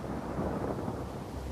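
Rumbling thunder from a storm raging at sea in the Caribbean, a dense, steady low roar filling the whole stretch with no voices over it.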